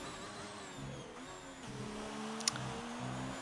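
Ferrari race car in a racing video game accelerating from the start of a lap, heard from onboard, its engine note rising and stepping through gear changes in a steady, continuous drone.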